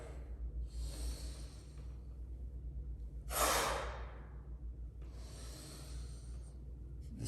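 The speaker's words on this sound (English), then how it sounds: "Inhaling on the way down, exhaling audibly on the way up." A person breathing audibly through a knee roll exercise, with slow breaths and one stronger, louder exhale in the middle, close and steady over a low background hum.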